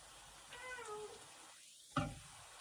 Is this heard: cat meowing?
yes